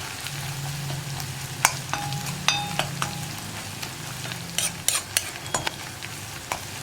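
Onions frying in coconut oil for a Kerala-style mezhukkupuratti, stirred in the pan: a steady low sizzle with repeated close scrapes and clinks of the spoon against the pan, no talk.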